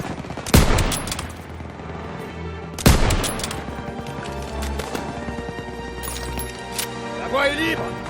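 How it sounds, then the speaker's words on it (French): Call of Duty WWII gameplay, with two sharp, loud gunshots followed by scattered distant rifle and machine-gun fire, horse hooves and a whinny amid battlefield noise, under constant speech. "Ça, c'est du tir."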